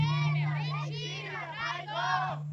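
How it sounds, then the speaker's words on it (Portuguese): An agitated crowd shouts during a staged Passion of Christ play, with several loud, overlapping voices in a continuous outcry that swells and dips over a low steady hum. "A multidão alvoroçada gritou."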